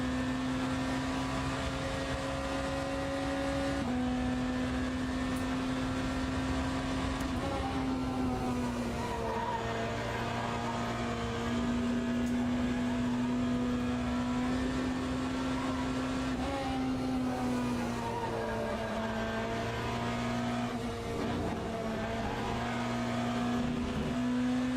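A BMW hypercar in the Le Mans Ultimate racing game sweeps through the Porsche curves at Le Mans, its engine droning steadily with pitch shifts through gear changes and brief tyre squeal, loud and continuous with no talk.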